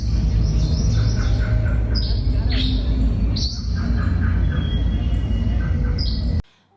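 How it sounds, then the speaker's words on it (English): Birds tweet in an exhibition room soundscape, with repeated high chirps and calls over a heavy low drone, and the sound cuts off abruptly at the end. "I heard a lot of like tweeting noises,"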